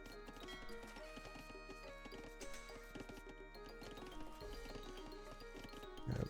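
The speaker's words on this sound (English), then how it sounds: "As there is a horse, this is a horse." Wild horse hooves clip-clop in a strategy video game, a quiet run of rhythmic hoof clatter mixed into a busy backdrop of game music and effects.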